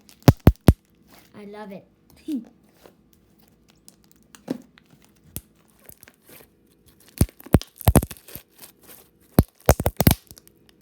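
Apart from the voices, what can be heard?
popping thick homemade slime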